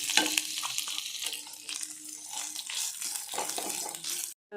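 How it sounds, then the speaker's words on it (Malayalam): Coconut pieces fry in a spoonful of ghee in a pan, giving a close crackling sizzle mixed with stirring and scraping that rises and falls, then cuts off abruptly near the end. "ഈ പാനിലേക്ക് നെയ്യിട്ട് കൊടുക്കുക ഒരു സ്പൂൺ ആയിട്ടുണ്ട് അതിലേക്ക് ഈ തേങ്ങാക്കൊത്ത് ഇട്ട് കൊടുക്കുക ഇതൊന്ന് ഫ്രൈ ചെയ്തെടുക്കണം"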